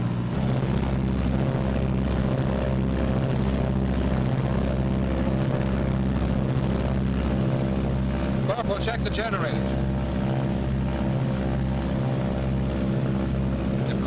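Twin piston engines of a 1944 B-26 bomber run up together to about 1,800 RPM, a loud steady propeller drone with pulsing throb filling the whole clip, with a voice speaking briefly over it.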